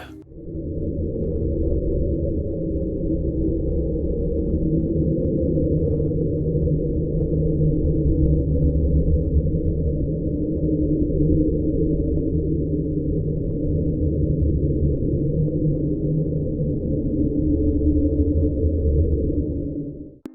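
A low, steady underwater hydrophone recording of the deep-sea sound called Slow Down, a droning hum that holds continuously, muffled and deep, with no clear pitch change over the stretch.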